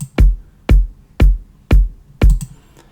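Five layered electronic kick drum hits played in an even, steady rhythm about half a second apart, each a punchy deep thud with a short sharp attack, loud and alone in a dry mix.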